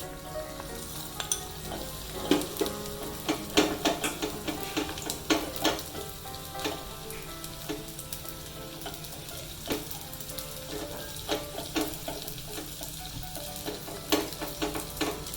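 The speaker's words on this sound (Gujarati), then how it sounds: "હવે ઘી ગરમ થઈ ગયું છે તો આપણે ગુંદર તળી લઈએ" Edible gum frying in hot ghee for a winter jaggery adadiya pak sweet, with a busy, continuous sizzle full of crackling pops and occasional spoon stirs, close and steady throughout.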